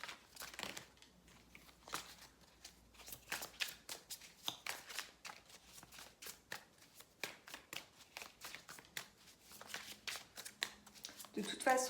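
Tarot cards shuffled and drawn in quick, soft riffling flicks and slaps, close and fairly quiet, with a voice speaking French in between.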